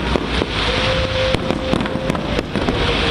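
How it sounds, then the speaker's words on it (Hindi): Fireworks go off at a night celebration near a fountain. Sharp pops and cracks repeat irregularly over a loud, continuous roar of wind or crowd noise, with no clear talking. "इतनी जोरदार आतिशबाजी शुरू हुई कि ऐसा लगा जैसे दिवाली मनाई जा रही हो।"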